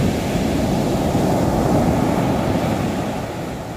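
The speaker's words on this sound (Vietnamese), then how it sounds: "Trời ơi, sóng nó đánh vô tới chân Lộc luôn mọi người." Heavy surf from rough seas crashes onto the shore at Nha Trang, a loud, dense, continuous roar of breaking water close by, easing slightly toward the end, with wind on the microphone and no talking.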